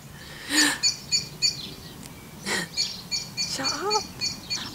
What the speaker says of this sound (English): Oh, this bird.